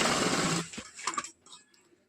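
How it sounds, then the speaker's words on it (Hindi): A sewing machine runs a short burst of stitching on blouse fabric, a close, loud buzz that stops abruptly, followed by a few faint clicks and taps. "इसके बाद सिलाई लगा लेना है पूरा"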